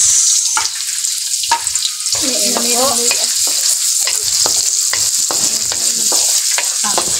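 Onion sautéing in a pan, a loud close sizzle broken by repeated scraping stirs and utensil clanks against the metal, with no talking.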